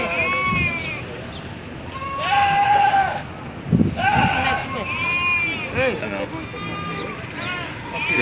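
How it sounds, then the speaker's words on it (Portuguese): Goats bleating repeatedly at a livestock market in Pesqueira, Pernambuco, Brazil, amid a busy crowd, with people talking and general market bustle throughout. "Outra cabra aqui boa."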